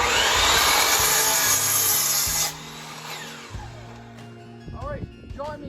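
Power saw cutting lumber for an outdoor kitchen foundation, a loud, close, continuous whine for about two seconds that then winds down, followed by quieter clatter and knocks while a person talks.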